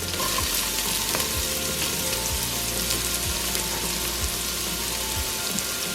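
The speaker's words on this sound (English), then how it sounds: "So we're just gonna saute this for a couple of minutes." Chopped onions, garlic and ginger sauté in olive oil as aromatics for Filipino chicken rice porridge, giving a steady, close, crackling sizzle with occasional soft stirring thumps throughout, no talking.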